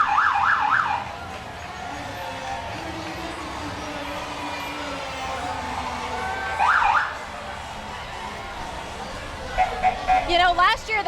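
Hillsborough County Sheriff's Office motorcycles pass in the Tampa Pride Diversity Parade, short rising-and-falling siren whoops and yelps sounding over a steady crowd murmur.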